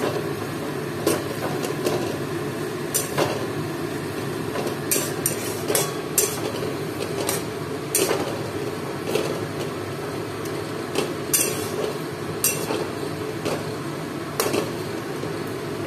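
Biryani masala being fried and stirred in a pot, a spoon scraping and clinking against the metal in irregular sharp taps over a steady low sizzle and hiss, fairly close and without talk.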